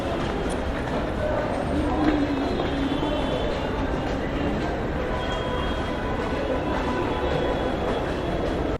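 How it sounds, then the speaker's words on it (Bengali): A metro train rumbles through New Delhi metro station, a steady low roar of rolling wheels with a faint whine, under a busy station hubbub and people talking. "আমরা এই মুহূর্তে প্রবেশ করেছি নিউ দিল্লি মেট্রো স্টেশনে"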